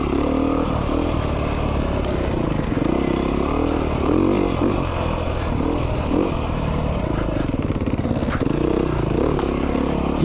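A 2019 Beta 390 RR Race Edition dirt bike rolling along off-road: a steady, continuous engine drone with rattling and scraping chassis clatter, no speech, close and fairly loud throughout.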